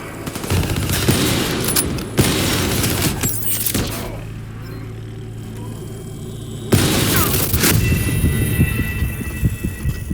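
Gunfire in Call of Duty: Black Ops 3, with loud bursts of rapid automatic fire and booming shots in two dense stretches, separated by a quieter gap with a low steady hum.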